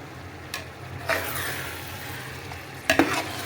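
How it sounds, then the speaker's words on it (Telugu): Mint and coriander leaves frying in masala for bagara rice, a soft steady sizzle with a few sharp stirring scrapes and clinks of the spoon in the pan. "పుదీనా కొత్తిమీర అంతా వేగిపోతుంది. 2 నిమిషాలు వేగిపోతుంది కొత్తిమీర"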